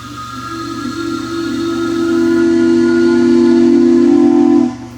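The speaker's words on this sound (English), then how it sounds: "This is the PS Industry paddle steamer." The PS Industry, a 1910 Goolwa-built paddle steamer on the Murray River, sounds a loud, sustained steam whistle with a steady tonal blast and hiss that swells and then cuts off abruptly.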